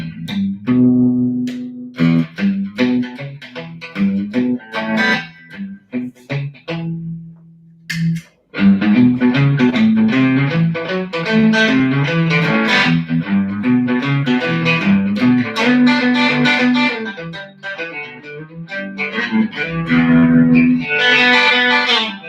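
Bright, twangy electric guitar plays single notes and chords, alone and up close, with a short pause before it continues more densely.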